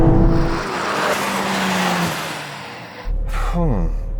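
A loud BMW M3 engine roars and revs as it pulls away fast in a drag race, with tire noise, then cuts to a short voice.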